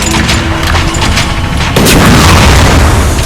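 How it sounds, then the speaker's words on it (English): The Cannon weapon in the video game Eternal Crusade fires a direct shot, a loud heavy boom erupting midway through dense continuous battlefield noise and gunfire. "last but not least is the Cannon Def Gun. Now it has two modes. You have a direct shot,"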